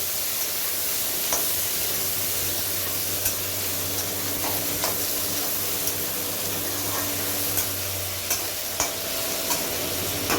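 Cut potato pieces frying in a pan for a Bengali boroli fish curry, a steady broadband sizzle with scattered sharp ticks and clinks of stirring, close and continuous with no talk.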